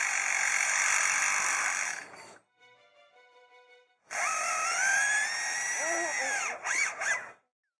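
A lyrebird imitates chainsaws and construction-site machinery, giving a loud, sustained mechanical whine like a power tool, broken by a quieter tonal hum, then a second grinding burst with warbling sweeps, close and without speech.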